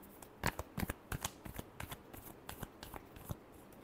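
Tarot cards are shuffled close by in a quiet room, a soft, steady run of papery flicks and riffles with small taps of the deck.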